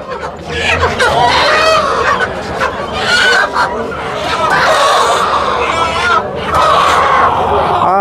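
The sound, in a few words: chickens clucking while weighed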